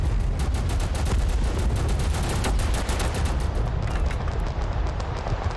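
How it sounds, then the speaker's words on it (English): Gunfire in Total Conflict: Resistance, a dense, continuous barrage of rapid shots and booms layered together, loud and unbroken across the whole stretch with no voices over it. "we've got plenty of people firing"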